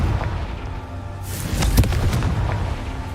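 A Confringo fire spell in Hogwarts Legacy goes off as a deep booming blast, with a rushing whoosh and a sharp thud at its peak over low rumbling game ambience.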